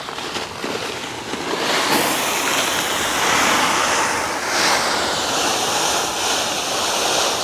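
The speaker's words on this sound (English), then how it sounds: "Yay, the first bit of gravel going in." Gravel pours into a lined garden pond, a steady broadband rushing and rattling that swells after the first couple of seconds and runs on continuously at close range.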